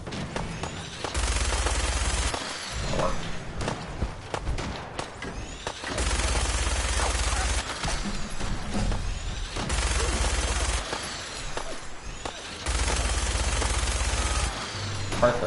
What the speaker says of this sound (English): Let's shoot this fancy gun up close.